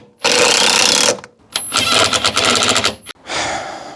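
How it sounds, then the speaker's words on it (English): Loud, close power drill whirring in two long bursts, the second with a rapid rattling chatter as it bores into wood, then a shorter final run. "Pre-drill here."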